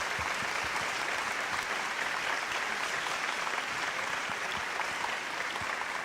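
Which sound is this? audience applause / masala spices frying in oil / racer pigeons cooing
audience applause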